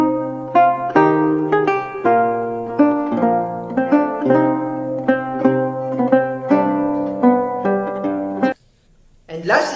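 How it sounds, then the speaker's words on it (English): A lute, the pear-shaped plucked string instrument with a bent neck and fretted fingerboard, plays a melody of distinct plucked notes that ring and decay, close and solo, ending abruptly before a short quiet stretch. "Lute is a pear-shaped plucked string instrument with a bent neck and a fretted fingerboard"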